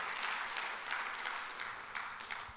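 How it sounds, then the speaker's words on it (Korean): A church congregation claps together after a sermon, a soft, distant patter of applause with gentle surges, steady throughout. "하나님께 영광의 박수."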